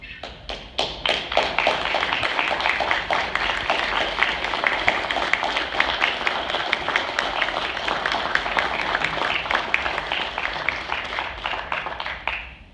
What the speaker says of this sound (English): I would like for all of our veterans to please stand if you are able to and have a round of applause